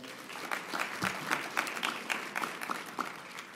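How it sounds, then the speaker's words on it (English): A conference audience at an association kick-off session breaks into lively applause, dense, sustained clapping from many hands that stays fairly even throughout. "Let's give her another round of applause."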